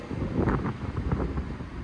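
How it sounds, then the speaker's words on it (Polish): Strong wind buffets the microphone outdoors during a cycling expedition toward Tan-Tan, a loud, continuous rumbling gust with uneven surges and no voices. "Jak widzicie, wiatr trochę pomaga, a raczej bardzo."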